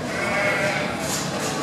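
At a blade sheep-shearing competition at an agricultural show in Northern Ireland, a sheep gives a drawn-out bleat while an announcer talks over the steady crowd and hall noise.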